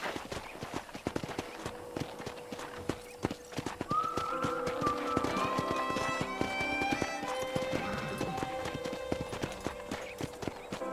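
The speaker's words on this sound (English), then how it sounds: "let's see if you can still ride a horse" Horse hooves clip-clop steadily during a ride across a ranch in the Red Dead Redemption video game, a continuous rhythmic trot heard under game music and ambient tones.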